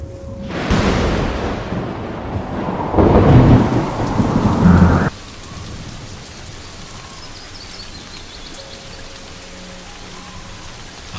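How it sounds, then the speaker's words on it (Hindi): Raindrops patter on dry savanna grass in the Serengeti, heavy at first with rumbling bursts, then easing into a soft, steady fall. "सूखी घास पर पानी की बूंदें पड़नी शुरू हो गई हैं"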